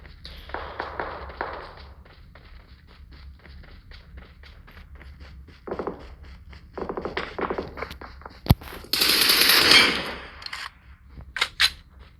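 Sharp synthetic video game gunshots ring out over a low hum: a single crisp crack, then a dense rapid burst of fire, followed by a few scattered shots.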